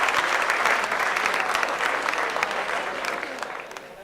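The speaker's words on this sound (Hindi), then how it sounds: "जोरदार तालियों से इस्तकबाल करें" An audience at a mushaira gives a poet from Lucknow a loud, sustained round of clapping, dense and continuous before easing off slightly toward the end.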